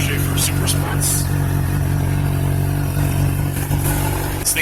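Stock exhaust of a 2019 Honda CBR600RR supersport motorcycle drones loudly up close, with a steady engine note and a few brief sharp clattery bursts on top.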